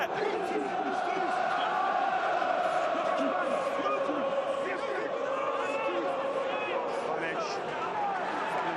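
A rugby crowd at Sandy Park, Exeter, during a Premiership match against Bath keeps up a loud, continuous roar with chanting, and a commentator's voice runs over it.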